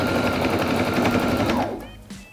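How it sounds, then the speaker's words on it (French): A sewing machine stitching layers of fabric for a renovated baby bassinet runs in a fast steady rattle for most of the clip, close and loud, then slows and stops near the end. "Je vais tout piquer, laisser une ouverture en bas"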